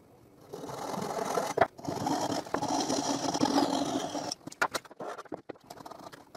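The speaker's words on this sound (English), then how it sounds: "So I cut it with the marquetry saw and the chisel." A marquetry saw cuts through plywood with a close, fast, rattling buzz of quick strokes, holding steady for a few seconds before breaking into short scattered knocks.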